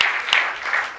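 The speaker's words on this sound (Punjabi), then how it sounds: "ਸਾਰੇ ਮਸੇਰ ਖਾਨ ਸਾਹਿਬ ਵਾਸਤੇ ਤਾੜੀ ਠੋਕੋ ਯਾਰ" Audience applause for a singer at a Pakistani Punjabi stage drama show, a dense, even wash of many hands clapping together for about a second, fairly loud and close.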